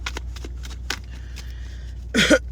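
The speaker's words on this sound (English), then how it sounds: "I'm gonna pull these cards real quick" Cards shuffled for a zodiac reading, a few soft riffling flutters in short bursts, close and quiet, followed by a brief throat-clearing sound.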